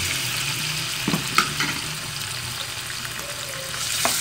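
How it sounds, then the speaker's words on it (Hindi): Chicken frying in oil in a frying pan, a continuous close sizzle with a couple of brief clinks and stirring sounds, and no talking over it. "सबसे पहले मैंने ऑयल डाल लिया है फ्राई पैन में, और इसके बाद हम चिकन फ्राई करेंगे"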